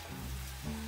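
Ziti alla Genovese sizzling in a pan over medium heat as it is stirred, a short steady frying hiss with a low scraping undertone and no talk.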